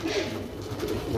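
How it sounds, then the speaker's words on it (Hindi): Pigeons coo softly and repeatedly nearby in a pigeon loft, low throaty murmurs blending together over a quiet background. "कुछ कुछ कबूतर है।"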